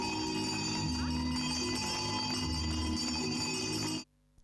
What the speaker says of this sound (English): The farewell bells, symbolizing the last official day of school, rang today